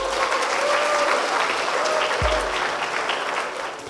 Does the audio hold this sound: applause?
yes